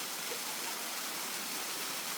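A waterfall gives a steady, dense rush of falling water, continuous and even with no voices or other sounds over it.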